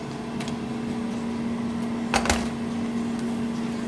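A microwave oven hums steadily while cooking rice, a constant close drone with a couple of brief clunks partway through and no talk.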